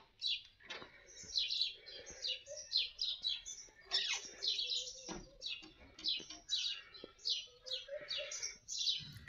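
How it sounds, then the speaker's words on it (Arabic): Many small birds chirp and tweet busily outdoors, overlapping calls coming in quick bursts throughout, fairly close and lively. "تعالوا اسمعكم صوت العصافير"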